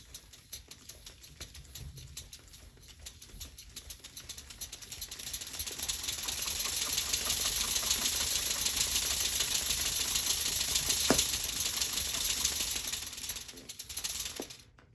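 A Lego Technic V2 pneumatic engine runs at low air pressure of about 5 to 7 PSI, a steady fast mechanical clatter and hiss. It starts quieter and grows louder and denser partway through, with no talk.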